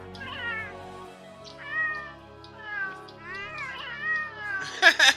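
Palico voice type 3 in Monster Hunter World, a cartoonish cat voice giving a string of drawn-out, wavering meows, four or five separate calls close and clear over a low game backdrop, the last one a sharper, brighter cry.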